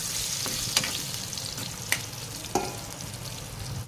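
Mango pieces for mango ulava charu cook in a pan with a steady sizzling hiss, punctuated by a few sharp clicks of a spoon stirring against the pan, close and alone without voices.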